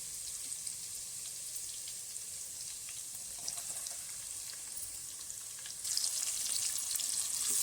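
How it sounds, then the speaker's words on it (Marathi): Chopped onion hits hot oil with browned garlic and ginger in a pan for an Agri-style freshwater crab dish. It makes a steady close sizzle that swells louder near the end. "लसूण आता लालसर झालेला आहे यात आपण बारीक केलेला कांदा घालून घेऊ"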